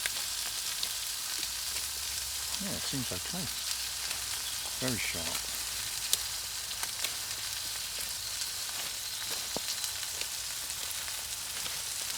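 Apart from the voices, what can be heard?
lamb burgers frying in pan on Bushbox XL with Trangia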